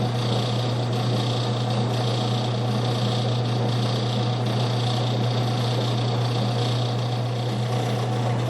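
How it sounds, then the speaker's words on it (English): A lathe turns a steel CV axle shaft for a Jeep D30 front axle, producing a continuous, loud mechanical whir with a steady low hum and an even high hiss throughout, with no talking. "I'm going to run this on the lathe."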